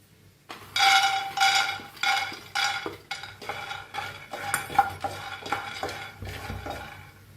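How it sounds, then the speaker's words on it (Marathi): Peanuts dry-roasting in a pan, set out with grated coconut and sesame for a bitter gourd dish: a run of scraping, rattling stirring strokes, close and fairly loud, settling into quicker, lighter scrapes. "आता आपण शेंगदाणे भाजून घेऊया"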